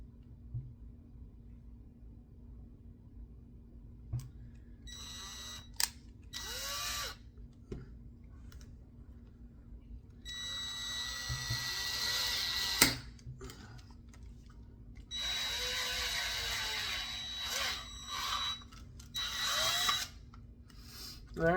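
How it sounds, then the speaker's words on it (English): A power drill fitted with a 1/4 inch bit bores holes, running in a few bursts of whirring and grinding, loudest in the second half, with quiet handling noises and pauses in between. "I'm going to go ahead and I'm going to start drilling some holes"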